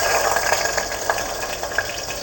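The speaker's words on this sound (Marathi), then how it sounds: "इकडं तेल गरम झालेलं आहे, लसूण टाकूया" Garlic tipped into hot oil in a pan while cooking a cluster bean (gavar) vegetable dish, giving a steady close hiss of sizzling with small crackling pops throughout.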